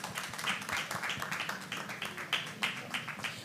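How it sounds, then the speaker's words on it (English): An audience at a women's health event applauds with dense, rapid clapping that keeps going steadily, moderately loud and close, with a few sharper individual claps standing out. "a round of applause for her"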